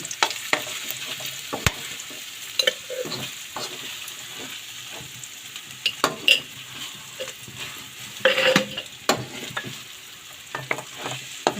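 Onion and garlic sizzle and fry in a pan, with occasional stirring scrapes and clinks of a utensil, steady and fairly quiet, no one speaking.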